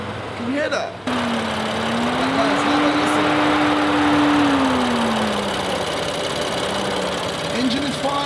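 A BMW M4 engine idling on a cold morning start after wreck repairs, a steady close rumbling idle with a slowly wavering tone, continuous and loud throughout.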